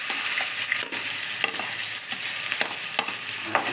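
Onions with chana dal and urad dal frying in hot oil alongside mustard seeds and cumin, a loud steady sizzle broken by repeated stirring scrapes at an irregular rhythm.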